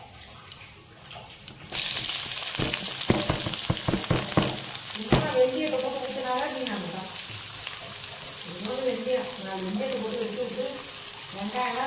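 Spices and curry leaves pop and crackle sharply in hot oil, then settle into a steady sizzle, with a clatter of utensils and voices talking nearby.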